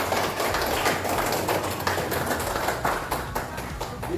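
A school audience claps in a dense, continuous patter of many hands, moderately loud and steady for several seconds, with a little background chatter.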